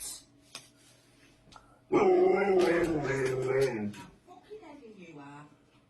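A dog gives a loud drawn-out howling whine close by after a quiet stretch, followed by softer whimpering yips, with a person talking at the start.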